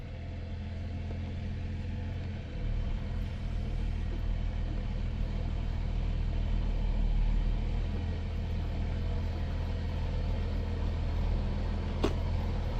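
A converted camper truck rumbles steadily off-road through potholes on a 4x4 track, its engine a continuous low drone close by with a brief knock near the end, no voices.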